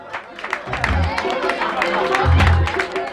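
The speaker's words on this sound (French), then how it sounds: "On applaudit très très fort Djeneba Sek." Crowd applauding and cheering at an event, a dense wash of clapping and voices that swells louder toward the end, with raised shouts mixed into the noise.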